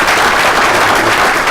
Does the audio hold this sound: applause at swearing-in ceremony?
yes